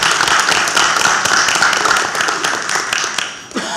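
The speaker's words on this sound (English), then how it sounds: "I just want to give a round of applause to the Brownsville Police Department and the Brownsville firefighters" Steady, fairly loud applause at a city commission meeting, with many hands clapping continuously for several seconds before it tapers off at the end.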